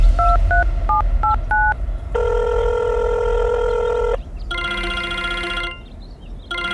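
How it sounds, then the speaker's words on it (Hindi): A phone being dialed: a quick series of short keypad tones, then a long sustained ringing tone, a pause, and another ringback burst, loud and close with no voices. "उसने अपना फोन उठाया और अर्जुन को कॉल"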